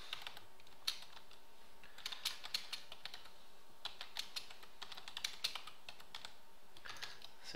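Quiet, rapid typing on a computer keyboard, with bursts of soft key clicks coming in irregular clusters and short pauses between them, no voices.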